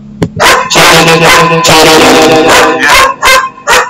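Several dogs bark loudly and close by in rapid, overlapping bursts, with a few short yips toward the end.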